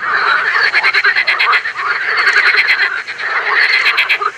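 A chorus of frogs croaks in a pond, many overlapping rapid trilling calls running continuously and loudly close by, with no talking.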